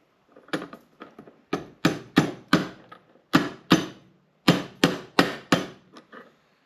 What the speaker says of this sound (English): So it'll support it as I pound the hinge